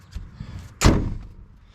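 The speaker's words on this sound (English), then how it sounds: "listen how that door closes." The door of a 1977 Chevrolet K5 Blazer closes with a single loud, solid slam, preceded by a few faint knocks and creaks, heard up close with no talking.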